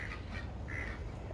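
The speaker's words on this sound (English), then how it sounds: "The ducks are a little rowdy this morning." Ducks quack in a garden in the morning, a few short, rowdy calls in quick succession, somewhat distant over steady low background rumble.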